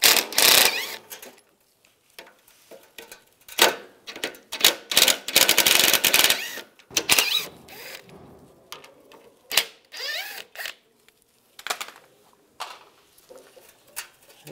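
Ratcheting socket tool working radiator bolts loose on a 1999–2005 Volkswagen Jetta, with rapid clicking pawl bursts and pauses, close and fairly loud, and no talking.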